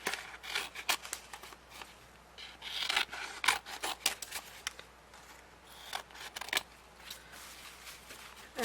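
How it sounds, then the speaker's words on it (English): Scissors trim a napkin off a magazine image, with a run of close, quiet snips and paper rustles at irregular intervals. "what I'm going to do now is trim this napkin off of it"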